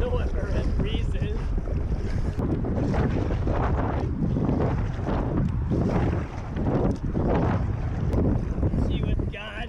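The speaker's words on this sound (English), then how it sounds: "The wind rose up for no apparent reason." Strong wind roaring across a fishing boat on open water, loud and continuous with heavy microphone buffeting, gusts swelling and easing throughout.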